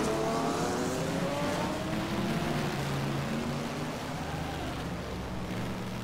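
A 1971 Can-Am race car roars at Road Atlanta, a loud sustained engine note with shifting harmonic tones as it accelerates, steady and close throughout with no talk.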